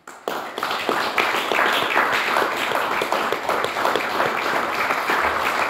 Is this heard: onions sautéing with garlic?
no